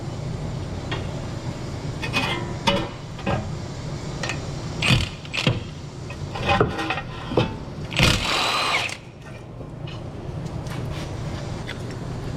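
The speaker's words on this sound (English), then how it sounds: "go ahead and remove the caliper mounting bracket. 2 19mm bolts." Two 19mm caliper mounting bracket bolts come off a 2013 Honda Crosstour during a brake job, close metallic ratcheting and scraping clicks in irregular bursts, louder around the middle, over a steady workshop hum.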